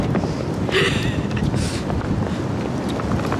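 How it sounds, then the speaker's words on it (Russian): Strong wind buffets the microphone with a constant low rumble and roar, a voice briefly audible somewhere under the gusts. "Очень ветрено сегодня"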